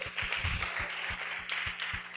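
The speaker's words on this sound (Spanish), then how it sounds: "Dale un aplauso al Señor." Church congregation clapping for the Lord during a Spanish-language sermon, a fairly steady run of rhythmic claps with low thumps, moderately loud and close, no talk over it.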